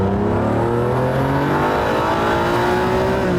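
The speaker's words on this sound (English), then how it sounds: "I'm just going to try that acceleration again" A Lamborghini Countach engine revs hard through a sustained, loud acceleration, its rising harmonic pitch climbing steadily from start to finish with no talk over it.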